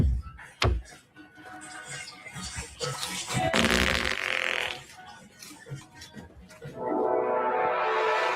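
A fart, a low brief rumbling burst amid scattered thumps and movement noises, followed by louder broadband rustling and clattering.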